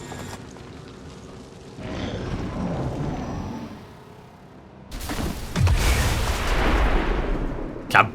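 Explosion in XCOM 2 Long War 2: a loud boom bursts in partway through and rumbles on over low battlefield noise, with a sharp crack at the end.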